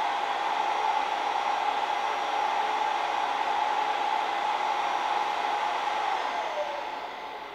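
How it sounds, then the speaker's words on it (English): A vacuum cleaner drones steadily with a high whine, close and loud, then its pitch sinks as it starts to power down. "That's my vacuum."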